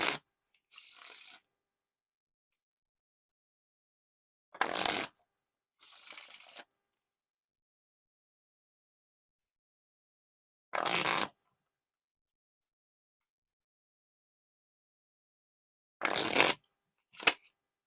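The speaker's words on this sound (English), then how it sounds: "Now time for the Wiffle Shuffle or Bridge Shuffle." Red Bee Metalluxe playing cards are riffled in a wiffle or bridge shuffle, several brief crisp bursts of flicking card noise separated by long silent gaps.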